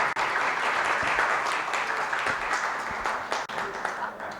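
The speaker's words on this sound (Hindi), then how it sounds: "जोरदार तालियां।" Audience applause at a panel session on indie cinema in India, a steady dense wash of clapping that fills the whole clip at even strength, with voices murmuring underneath.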